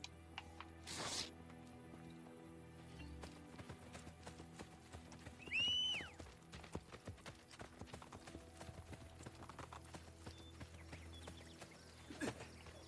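A horse in Assassin's Creed: Brotherhood pounds along with rapid, rhythmic clip-clop hoofbeats, faint and steady, with one short whinny partway through.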